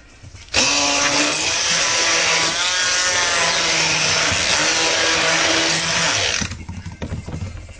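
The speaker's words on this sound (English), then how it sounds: "I don't want to hit the blender too much because being that it's so little, you're going to get a lot of air bubbles." A small blender whirs steadily as it mixes soap oils into an emulsion, a loud continuous motor drone with a wavering pitch that starts abruptly, runs about six seconds, then cuts off, leaving faint handling noise.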